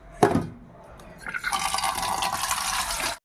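Tap water runs steadily into a cooking pot in a village kitchen, a brief splash first and then a continuous filling gush that lasts to the end.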